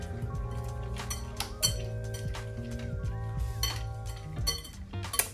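Shredded cheddar cheese is stirred into an egg bite mixture in a bowl, with repeated light clinks and scrapes of a utensil against the dish, close and fairly quiet.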